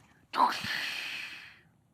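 A voice imitates a tractor cab door's glass shattering with a single sharp, breathy burst that trails off over about a second.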